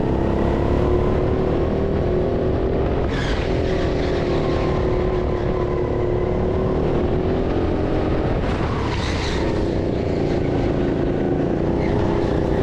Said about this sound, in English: This kart has an exhaust blow, which is why it sounds a bit different to the last one.